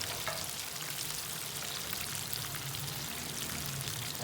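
Spice-coated masala fish fries in a pan with dense, crackling sizzle that stays loud and constant at close range, with no voices.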